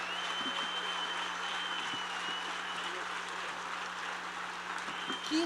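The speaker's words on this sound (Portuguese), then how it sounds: "Aplauda bem forte ao nome do Senhor." Steady applause from a church congregation during a Sunday morning service, a dense, even wash of clapping held at a constant level throughout, with a low hum underneath.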